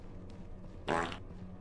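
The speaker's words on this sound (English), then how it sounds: "Any more farts available for me?" A comic fart sound effect in the Content Warning video game, one short loud burst lasting about a third of a second over quiet background hum.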